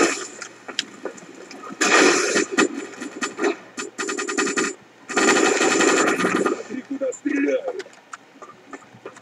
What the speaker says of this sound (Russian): Вот реактивные пушки я обожаю.